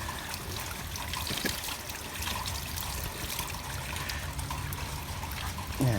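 Water pumped through a hose into a bathing pool runs in a steady, continuous trickling stream at moderate level, with no voices over it.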